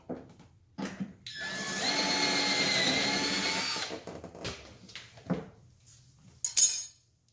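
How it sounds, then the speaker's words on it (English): A power drill whirs loudly for a few seconds, drilling a hole to mount a side skirt on a Lexus SC300, then stops, followed by some scattered clinks and handling noises. "Then we'll go ahead and get ready to drill this guy."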